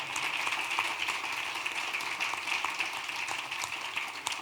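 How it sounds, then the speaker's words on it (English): Sustained audience applause at a leadership event in Accra, a steady dense wash of many hands clapping without pause, moderately loud throughout, no speech over it. "Would you give both of them a rousing applause?"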